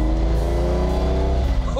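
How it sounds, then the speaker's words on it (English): A rare right-hand-drive sports car engine revs loud and close, a raw, steady roar held at half its rev range with harmonic tones rising slightly, running alone without talk. "You'll hear it now."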